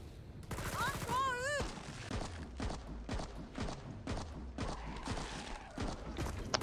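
Gunfire in the video game Killing Floor 2, rapid bursts of shots in uneven strings with whistling, warbling game effects early on, heard at moderate level over a busy background.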